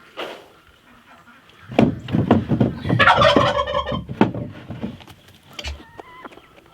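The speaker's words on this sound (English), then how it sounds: "Come on, turkeys." Turkeys gobble in loud, rapid bursts, several calls overlapping in the middle, then a few softer calls trailing off.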